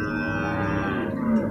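An imported cow at the Purwakarta livestock market lets out a long, low, sustained moo, close and fairly loud against the market's background murmur.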